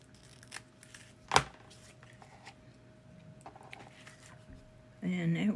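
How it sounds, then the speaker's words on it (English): Scissors snip through a ribbon on a paper craft crown: one sharp, close cut stands out amid faint rustling, followed by a louder shuffle of handling at the end. "I cut this ribbon off."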